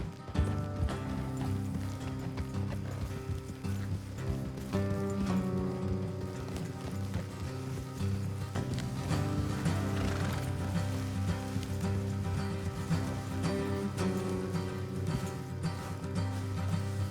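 Steady clip-clop of horse hooves at a trotting pace in Red Dead Redemption 2, continuous and fairly close, mixed with a droning background ambience and faint mechanical ticking.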